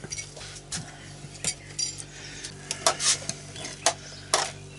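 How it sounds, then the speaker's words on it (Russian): A spoon scrapes and clinks against a metal pot in irregular strokes, stirring thick porridge, with a soft sizzle underneath. "Помешиваю кашу в котелке, чтобы не пригорело."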